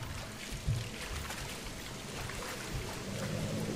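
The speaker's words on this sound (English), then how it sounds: "So this ends up becoming a waterfall here." Waterfall in the Grow Home video game, a steady, full rushing roar of falling water that fills the whole clip at an even, moderate level with no talk.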